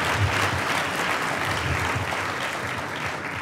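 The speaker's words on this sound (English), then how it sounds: "I want y'all to give Hartford a round of applause" Sustained applause from an audience at a community anniversary event in Hartford, a thick, continuous wash of many hands clapping at steady loudness, close and without speech over it.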